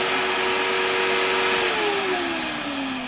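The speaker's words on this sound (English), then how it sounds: "There's the vacuum moving." A vacuum forming machine's vacuum pump runs with a steady, loud motor whine and rushing air, its tone sliding slightly lower near the end, alone without talk.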